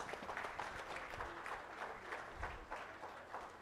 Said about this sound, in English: Let's welcome the young entrepreneurs with a huge round of applause.